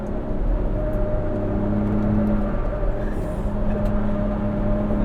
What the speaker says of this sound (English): Tires are making a lot of noise.